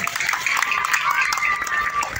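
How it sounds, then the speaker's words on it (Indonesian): An audience applauds for the santri at an Islamic boarding school gathering in Lampung, a continuous mass of clapping from a crowd that carries on steadily and fairly close. "Tepuk tangan untuk para santri"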